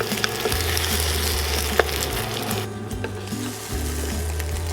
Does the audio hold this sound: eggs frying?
yes